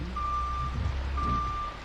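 Truck reversing beeps from a truck driving video game sound as two steady electronic tones, each lasting about half a second or longer, over a constant low engine rumble.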